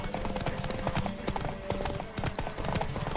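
Horse galloping in The Witcher 3 video game, with rapid, loud clip-clop hoofbeats in a steady driving rhythm throughout, close and continuous.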